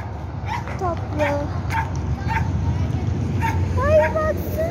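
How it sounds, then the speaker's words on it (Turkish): Dogs fight outdoors with yips, whimpers and short barks, the squealing cries rising and falling over a noisy background, with voices present. "Köpekler kavga ediyor."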